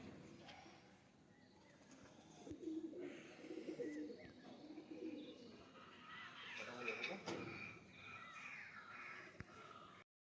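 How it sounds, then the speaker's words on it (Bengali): Six racing pigeons, backs dyed red, cooing softly in low repeated throaty calls, fairly close and quiet, with people talking over them for much of the time. "গোয়ালবেড়িয়া থেকে বাচ্চুদার এই ছটা পায়রা"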